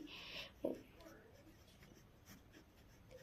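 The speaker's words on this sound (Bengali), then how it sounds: "আমি যে ওপরে লিখে দিচ্ছি" A pen scratches on paper while a trapezium is labelled during a class 7 maths lesson. A brief, close scratching burst comes at the start, followed by faint quiet talking.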